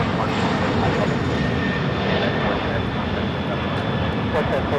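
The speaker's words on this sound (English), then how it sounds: "It's Delta 767-400ER flight coming in from Atlanta, flight 1219." A Delta Boeing 767-400ER jet arrives at LAX on a flight from Atlanta. Its engines give a loud, steady, broadband roar that holds without a break from start to end.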